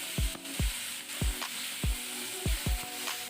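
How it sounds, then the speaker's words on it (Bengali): Amudi fish frying in oil produce a soft, steady sizzle broken by a regular series of low thumps from a utensil, fairly quiet with no talk. "এরপরে আমি আমুদি মাছগুলো ভেজে নিব।"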